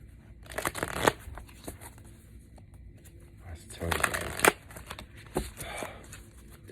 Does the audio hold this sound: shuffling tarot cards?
yes